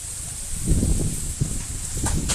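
Strong wind roars and buffets outdoors in low, gusty rumbles, close and fairly loud, with a steady hiss behind it.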